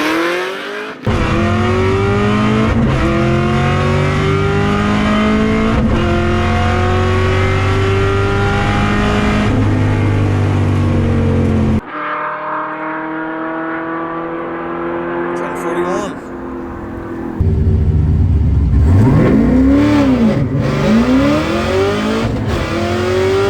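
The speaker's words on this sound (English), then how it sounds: "Try to launch it again to get it hopefully smoother off the line" A race car revs hard and launches off the line, loud engine climbing through repeated gear pulls with brief cuts between, ending in another strong surge, close and dominant.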